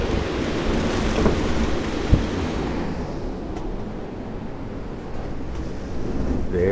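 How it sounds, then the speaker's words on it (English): A strong storm outside a window, with steady dense rain and gusting wind forming a continuous broadband roar, broken by a single brief crack partway through. "This is what it sounds like right outside our window now. I don't think you can breathe here. It's very, very windy."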